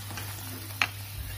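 Achwani mixture of milk and sugar roasting in a pan over a slow flame while being stirred, a soft continuous sizzle with one brief scrape of the spoon partway through, near and without talking.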